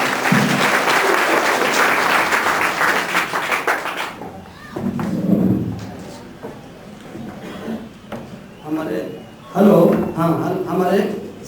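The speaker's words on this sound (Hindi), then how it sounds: "जोरदार तालियों से इस्तकबाल फरमाएं।" A crowd at a community conference in Kaiser Ganj gives a loud, dense round of applause for about four seconds to welcome a speaker. The clapping then breaks off, and a voice carries on over the room.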